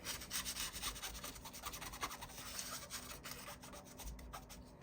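Cotton swabs rub and scrub inside a Nintendo Switch OLED during cleaning, giving faint, close, repeated scratchy strokes in an uneven rhythm, with no talk.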